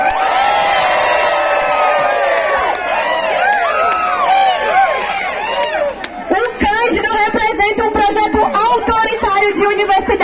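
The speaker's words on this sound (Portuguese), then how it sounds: "eu queria pedir para que todo mundo desse uma grande vaia cearense ao Cândido" A crowd at a public student rally in Ceará erupts in loud, jeering vocal noise, many overlapping rising and falling howls and whoops close by, shifting after a few seconds into choppier shouting and chatter.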